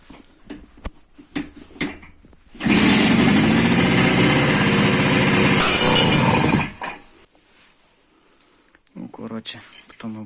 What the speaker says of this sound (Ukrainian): Але вже хоч мотор заводиться.